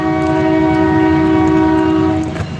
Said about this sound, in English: This train is something else.